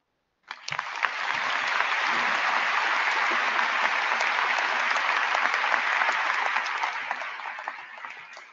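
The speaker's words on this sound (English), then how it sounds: "A special applause for you." An auditorium audience at a university new student convocation breaks into sustained applause, starting abruptly and holding a dense, steady roar of many clapping hands for about eight seconds before ending sharply.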